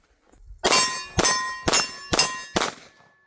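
Five pistol shots from a Shadow Systems CR XP at a firing range, sharp, loud cracks spaced about half a second apart, each with a short ringing tail.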